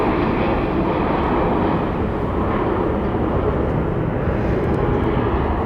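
Airliner landing at Dallas Love Field with spoilers up and thrust reversers out, a loud, continuous broadband roar that stays steady throughout, with no voices.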